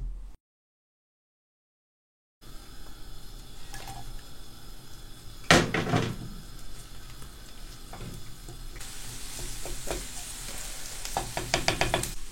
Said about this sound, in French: on va ensuite le faire revenir dans un peu de beurre avec les lardinettes